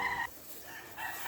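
Gamefowl stag roosters, gray Sweater Boston birds, crow at a game farm in two loud calls separated by a quieter gap, with no talking.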